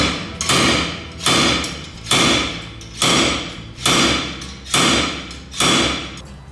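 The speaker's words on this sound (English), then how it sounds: "So what we're gonna try is this part of my slide hammer set" A slide hammer screwed into the back of vise grips is worked on a trailer repair, giving seven loud, evenly spaced metallic impacts about once a second, each with a ringing decay.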